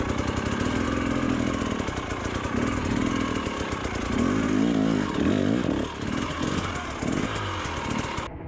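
A dirt bike engine riding over rocks runs loud and close, revving up and down in uneven bursts as the throttle is worked, with rough, choppy engine pulses before it cuts off abruptly at the end.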